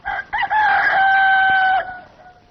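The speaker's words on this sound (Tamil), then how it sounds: "கோழி கத்துற சத்தம் கேட்கல?" A rooster crows once nearby, a loud, drawn-out cock-a-doodle-doo that opens with two short rising notes, holds a strong tonal call, then trails off, with no talking over it.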